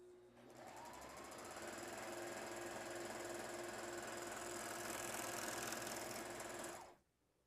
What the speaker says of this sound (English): And I'm going to stitch it right here.